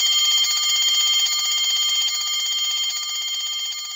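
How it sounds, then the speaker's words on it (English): An electric bell rings inside a bell jar without stopping, a bright rapid metallic trill that stays steady and loud throughout, easing off a little toward the end as air is pumped out of the jar. "On pressing the switch, you will be able to hear the bell ringing."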